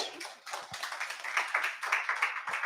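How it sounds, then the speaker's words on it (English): Scattered hand clapping from a small group, uneven and fairly close, building slightly before tapering, with no one speaking. "Wow, we got applause."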